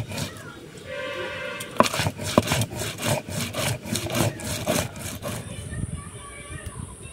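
Cumin, garlic, dried red chillies and fresh chillies are ground by hand into a spice paste, heard as close, rhythmic rasping strokes with a short scrape near the end and faint background noise.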